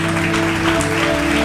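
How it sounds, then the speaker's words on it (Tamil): An audience claps steadily at a religious sermon gathering, a dense, even wash of applause from many hands continuing throughout, fairly loud and close, with no pauses. "கையை தட்டு"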